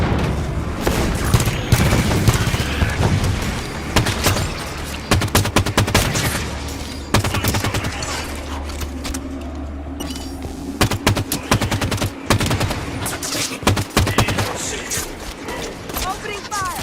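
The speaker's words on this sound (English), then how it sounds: "Opening fire!" Sustained automatic gunfire and bursts of shots in Halo 5, loud and dense throughout, with booms and mechanical clatter layered over game voices and background score.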